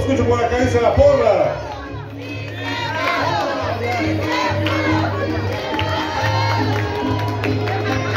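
A large crowd at a patronal fair competition in Zozocolco de Hidalgo, Veracruz, cheers and shouts loudly, the roar peaking early and then carrying on steadily.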